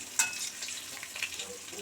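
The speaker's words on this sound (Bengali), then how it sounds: "এই যে বড়াগুলো সব ভাজি এক পিট ভাজা হয়ে গেছে বড়াগুলো ভেজে তুলে নেব আগে" Masoor lentil fritters (bora) fry in hot oil in a pan, giving a faint, steady sizzle with scattered light crackles and pops.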